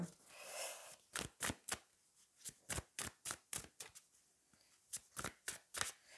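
Oracle cards being shuffled up close, roughly fifteen quick papery riffles in an uneven rhythm, fairly quiet against a near-silent room with no speech.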